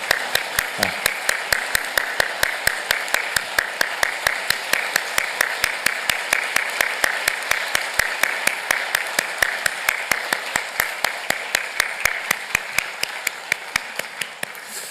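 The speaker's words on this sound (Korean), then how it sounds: "감사의 마음으로 꽃다발 드릴 때 우리 큰 축복의 박수 해드리겠습니다" Church congregation applauding at a Sunday service as a flower bouquet is presented to the choir conductor, rhythmic unison clapping with sharp regular beats for about fifteen seconds, with faint voices underneath.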